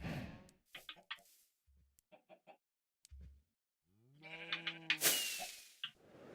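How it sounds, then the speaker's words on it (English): Sheep bleating in the Minecraft video game, with several short separate bleats early on and a louder, drawn-out bleat near the end, heard alone with no talk. "I think there was some sheep over here"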